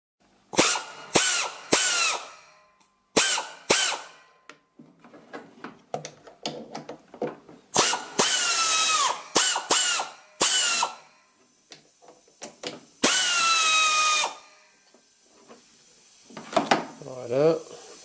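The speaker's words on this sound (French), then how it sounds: "on va défaire les vis de fixation" Unscrewing the fixing screws on a Honda HRX lawnmower during a service, with bursts of power-driver whirring and ratcheting clicks close by, separated by short pauses and small clatters.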